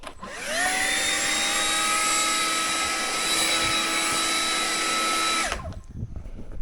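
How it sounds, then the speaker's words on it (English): A Stihl leaf blower runs outdoors at close range, a loud steady high-pitched whine and roar held for about five seconds before it winds down quickly and stops. "this steel leaf blower, good stuff"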